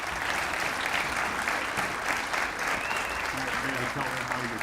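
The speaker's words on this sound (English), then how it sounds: "Ladies and gentlemen, round of applause." Banquet audience applauding an award winner, a loud, dense and steady wall of clapping with some voices and cheers mixed in throughout.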